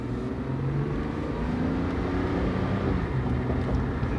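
A car drives along the road at a busy time of day, its steady engine and road rumble holding at a constant, fairly loud level throughout with no voices.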